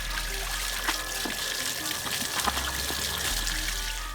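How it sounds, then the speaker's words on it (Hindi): Spinach and other vegetables are washed by hand in water, a continuous close splashing and trickling with small sloshes as the leaves are stirred. "अब तमाम चीज़ों को अच्छी तरह धो लें ताकि मिट्टी अच्छी तरह साफ़ हो जाए।"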